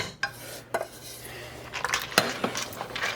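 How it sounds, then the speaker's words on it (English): A spoon scrapes and clinks against a metal pot while roux is stirred for gumbo, with several distinct knocks and scraping strokes spaced irregularly at close range. "Give it a good stir."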